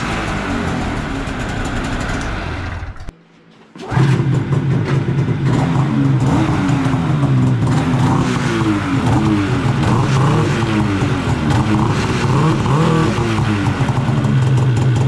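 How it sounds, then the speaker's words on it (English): Polaris AXYS snowmobile on its stock exhaust, engine running loud and close with a steady drone, a brief cutout near the start, then sustained revving with rising and falling pitch. "we'll get a sound clip of the stock exhaust"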